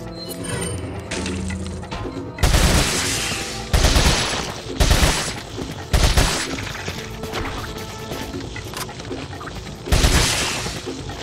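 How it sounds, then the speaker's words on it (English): Gunfire from an upgraded gun in the remastered Resident Evil 4: five loud, close bursts of shots around 2.5, 4, 5, 6 and 10 seconds, with quieter game ambience between them. "I upgraded my gun. This should be doing more damage."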